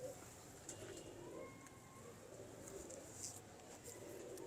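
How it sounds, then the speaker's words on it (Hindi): Antique pigeons coo softly and repeatedly, with low, rounded calls over a steady, faint background hum. "ये बड़े एंटीक कबूतर है"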